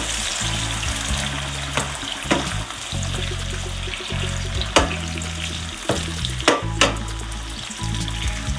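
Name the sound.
bell pepper frying in hot oil in a pan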